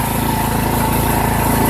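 A Poulan Pro PP175G42 riding lawn tractor engine runs steadily close by with an even, buzzing mid-pitched drone and a constant rhythmic firing pulse, no talk over it.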